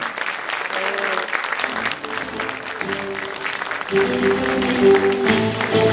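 Applause rises for a Turkish singer as he is introduced on stage, a steady crowd clapping that swells louder midway, with sustained musical tones from the band ringing underneath.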